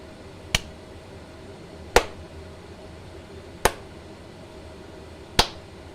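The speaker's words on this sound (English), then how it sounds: "Give a clap." Four sharp, isolated claps ring out at irregular intervals over faint background hiss, with no talking.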